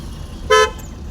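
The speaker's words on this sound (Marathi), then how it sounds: "बघा हॉर्न मारत" A single short horn toot, fairly loud, from a passing Ape auto-rickshaw over a steady background of traffic rumble.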